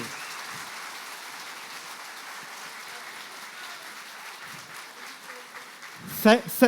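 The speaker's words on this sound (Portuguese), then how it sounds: "Salva de palmas, galera, para o Rodrigo." Audience applause at a software architecture talk: a steady, fairly faint patter of clapping runs throughout with no voices, ending in a few louder close claps.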